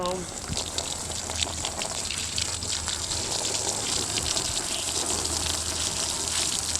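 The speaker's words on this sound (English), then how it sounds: "I'm going to rinse all the gunk off first." Water gushing and splashing steadily as egg yolk is rinsed off tanned rabbit hides, a close, continuous wash with a low pump-like hum underneath and no talking.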